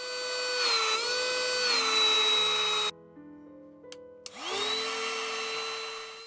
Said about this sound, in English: Now I will test the vacuum power.